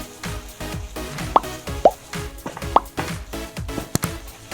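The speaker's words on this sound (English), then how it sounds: "give this a quick stir." Beef pasta is stirred in a pan with a spoon, making close wet plops and thick squelching scrapes in an uneven rhythm, with a few sharper tapping clicks.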